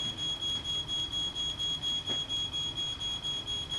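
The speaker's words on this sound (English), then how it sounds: "The ground floor smoke alarm activates." A smoke alarm beeps in a fast, steady pulsing pattern, high-pitched and continuous, heard from a short distance.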